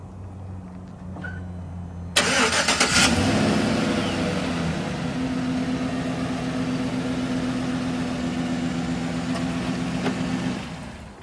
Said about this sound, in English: remote start.